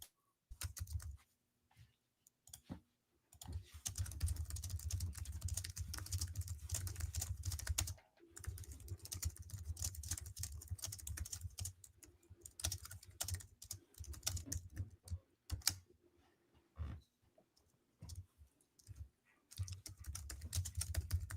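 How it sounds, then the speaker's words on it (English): Someone types on a computer keyboard in bursts of rapid, close, soft key clicks, with short pauses and a few louder taps, and no one speaking. "Let me type this out."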